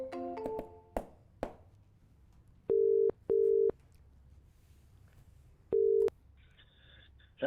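Telephone line tones as a caller connects to a live broadcast show: a quick burst of dialing beeps, then three loud steady tone pulses with silent gaps, ending in a higher warbling tone.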